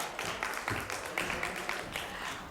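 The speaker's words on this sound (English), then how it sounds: "Give her a much louder applause" Audience applause at a conference session, a steady wash of many hands clapping for about two and a half seconds, dense and mid-distance with no voices over it.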